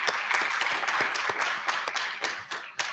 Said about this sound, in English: We'll ask for one more round of applause for everyone.